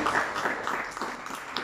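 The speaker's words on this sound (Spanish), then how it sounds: "Un aplauso que se escucha fuerte para la reina de la casa" A crowd claps steadily for a woman's birthday during a mariachi celebration, a dense and fairly quiet patter of hands that lasts throughout with faint voices mixed in.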